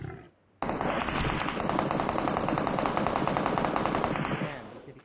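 Automatic gunfire in an online shooter video game, a sustained rapid burst lasting several seconds after a brief silence, loud and close, then tapering off.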